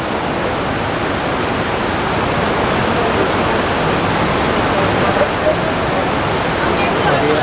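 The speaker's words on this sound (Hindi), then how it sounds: "ऊपर पहाड़ों से निकलती हुई जा रही है मंदाकिनी नदी" The Mandakini river rushes down from the mountains near Gauri Kund on the Kedarnath route, a steady, loud broadband roar of flowing water that fills the whole stretch without pause.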